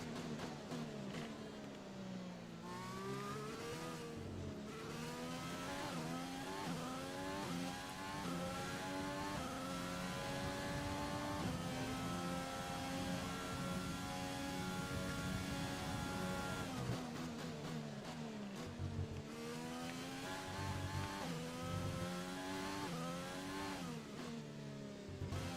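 Race car engines in the F1 2020 video game at the Abu Dhabi season finale, a continuous loud high-pitched whine rising and falling through gear shifts, with rival cars including a McLaren close behind, and no talk.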